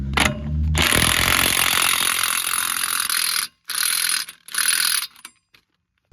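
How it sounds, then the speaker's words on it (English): An impact gun hammers down on a large CV axle nut of a 1999–2007 Chevrolet Silverado/GMC 1500HD/2500 truck, a loud continuous rattling burst for about three seconds followed by two shorter bursts, close and without speech. "I'd just use my impact gun and hammer down on it"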